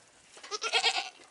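Dairy goats bleating, a few short wavering calls clustered together at close range, fairly soft, with no talking.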